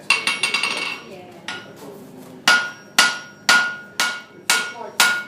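A blacksmith hammers while forging a hammer drift at a Port of Echuca forge: a quick flurry of ringing metal blows, a pause, then six heavy, evenly spaced strikes, each ringing out and decaying.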